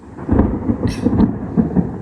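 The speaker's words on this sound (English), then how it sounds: "it's starting to rain and I just saw lightning" Low, heavy thunder rumbles through a storm as rain pours down, loud and close, while a rolling boom swells and fades with no talking.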